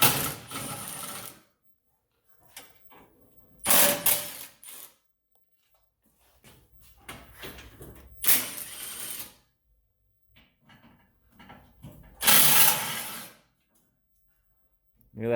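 Socket wrench work on a Polaris RZR RS1, short bursts of metallic ratcheting and clinking up close, separated by quiet gaps and faint rustling.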